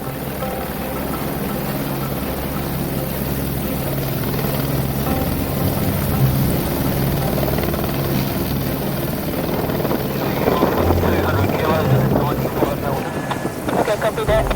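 A helicopter drones continuously with a thumping rotor roar and rushing wind, growing slightly louder toward the end.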